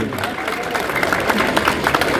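Crowd applause at a Baisakhi fair gathering addressed by an MLA, steady dense clapping across the whole stretch with a murmur of voices mixed in.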